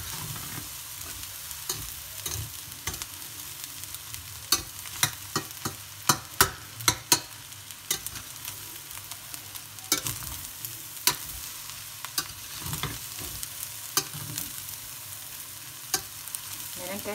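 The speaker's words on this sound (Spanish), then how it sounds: "Ahora la vamos a subir al fuego para que este arroz se sofría un poco" Rice is stir-fried in a pan for Chinese-style fried rice (chofan), with a constant low sizzle and frequent sharp scraping clicks from stirring, and no talk over it.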